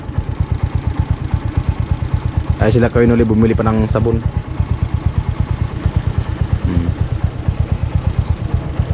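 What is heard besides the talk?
motorcycle engine running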